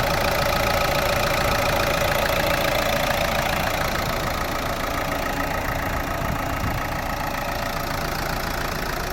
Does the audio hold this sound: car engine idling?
yes